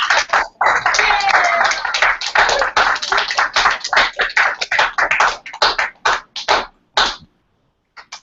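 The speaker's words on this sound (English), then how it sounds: "So let's give her a round of applause," Round of applause from an audience at the close of a Window Into Paris COP21 talk, dense steady clapping that thins into scattered claps and stops near the end.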